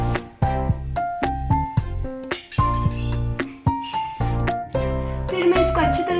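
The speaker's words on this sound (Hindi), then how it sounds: "फिर मैं इसको अच्छी तरह से मिक्स कर रही हूँ।" Spoon clinking repeatedly against a glass or ceramic bowl while stirring a besan, honey and lemon juice face pack, bright close ringing taps in a quick irregular rhythm.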